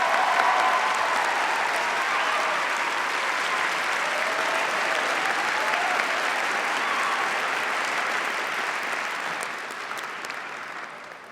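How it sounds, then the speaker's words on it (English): A graduation ceremony audience at Birmingham City University gives musicians a warm, sustained round of applause, dense clapping throughout that fades out near the end. "please join me now in giving them all a warm round of applause."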